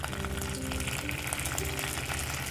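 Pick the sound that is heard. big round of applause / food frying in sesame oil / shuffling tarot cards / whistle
food frying in sesame oil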